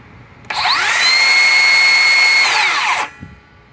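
A Makita cordless saw spins up with a sharp start, whines steadily at high speed for about two and a half seconds, then winds down quickly as the electric brake stops it, leaving quiet.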